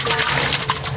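Water gushes into a large cooking pot (deg) already loaded with chicken, a brief, loud, splashing pour heard up close.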